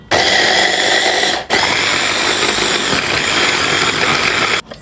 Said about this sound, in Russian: И сейчас буду это все взбивать.